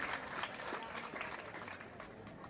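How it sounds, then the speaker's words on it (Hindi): Applause at a school ceremony, a faint but steady patter of many hands clapping together for the whole stretch, heard from some distance. "जोरदार तालियां हमारे आज के सभी सदस्यों के लिए"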